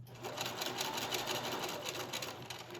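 A sewing machine running a double needle top stitch around an elastic hem, a fast, steady mechanical whir with a rapid stitching rhythm, close and continuous.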